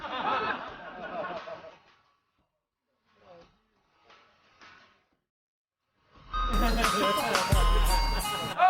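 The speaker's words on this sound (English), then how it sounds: "proof that the sound of ice cream trucks makes big fellas happy" Ice cream truck jingle, a bright tinkling tune heard in short bursts with gaps of silence, then swelling loud alongside excited shouting and laughter from a man.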